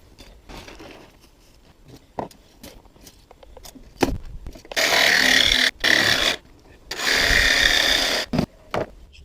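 Plastic shed guttering being cut with a saw, starting with scattered clicks and handling knocks, then three loud, sustained rasping bursts of sawing close to the microphone.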